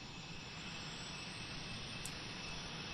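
A jet aircraft passes at the Cosford Airshow, a steady, broad engine roar heard from a distance and sustained throughout without speech.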